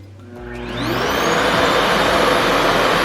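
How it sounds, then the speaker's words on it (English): A RevAir reverse-air hair dryer starts up and ramps into a loud, steady whirring rush of suction and airflow, close and continuous with no talking. "So this is the RevAir Reverse Air Hair Dryer."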